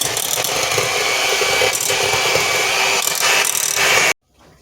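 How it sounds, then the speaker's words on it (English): An electric hand mixer blends sour cream muffin batter in a bowl, giving a steady, loud whirring drone with slight rattling surges. It runs continuously for about four seconds and then cuts off abruptly into quiet. "I got my hand mixer here today."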